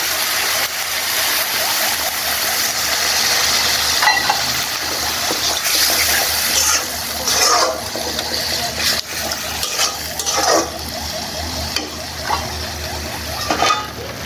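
Water pours into a pan of mixed radish greens and rohu fish, a steady rushing hiss heard fairly quietly throughout, with a few clinks and splashes toward the end.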